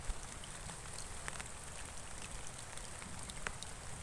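Steady rain patters outdoors by a fish pond, a dense continuous hiss of drops on water and surfaces with a few sharper splashes, close and even throughout.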